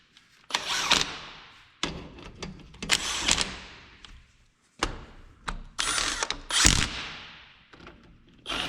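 Wrench torquing front axle bolts during a front axle parts job, heard as several separate bursts of ratcheting and clicking, fairly loud and close, with short pauses between them and no talking.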